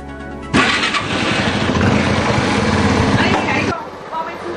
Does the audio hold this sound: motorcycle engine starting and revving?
yes